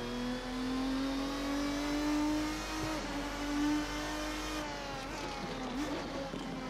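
A Lister Storm GT race car engine in the Assetto Corsa racing game, revving hard and steady as it pulls through the gears, with a loud sustained drone that shifts pitch on gear changes near the end.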